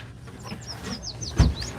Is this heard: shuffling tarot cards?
no